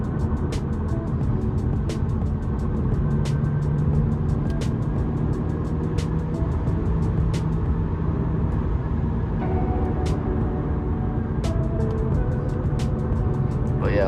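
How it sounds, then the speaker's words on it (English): An Audi A6 engine drones at a steady, moderate level from inside the cabin while driving, with faint regular ticking over the road hum. "I don't know if y'all can hear the engine right now."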